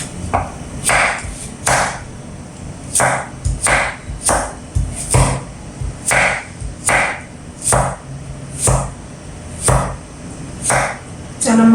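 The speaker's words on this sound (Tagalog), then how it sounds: "Balik tayo sa paghihiwa." A knife chops vegetables for pancit on a board in a home kitchen, sharp close strikes in a fairly regular rhythm of about one per second, loud with no talking.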